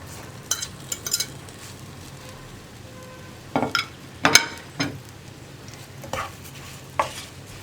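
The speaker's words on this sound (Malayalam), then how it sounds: "ഇതിലേക്ക് നമ്മൾ ഫ്രൈ ചെയ്ത് വെച്ചിരിക്കുന്ന പൊട്ടറ്റോ ആഡ് ചെയ്യാം" Fried potato is tipped into a spiced pan and stirred for a potato fry side dish, with scattered scraping and clinking of a spoon against the pan in short clusters over a low hiss.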